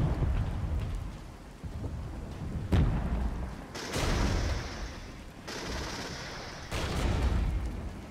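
Artillery barrage in a war video game: heavy rumbling blasts roll in repeated broad surges, one at the start and several more spaced a second or two apart, each swelling and fading against a constant low roar.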